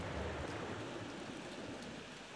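Rain in the horror video game Corpse Party -Rebuilt-, a quiet, constant hiss of falling water with no voices over it.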